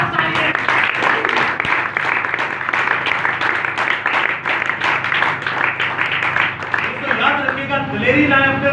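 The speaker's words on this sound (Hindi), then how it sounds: "यीशु की बादशाही के लिए एक बार जोरदार ताली है।" A Pentecostal church congregation claps together in a rapid, rhythmic burst of many hands, loud and close, while a preacher's voice continues over it.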